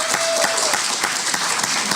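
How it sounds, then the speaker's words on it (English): A room full of people clapping for a supervisor at an evidence-based practices presentation, a loud sustained round of applause with distinct individual claps standing out from the dense, even patter. "So let's give the supervisor a big round of applause."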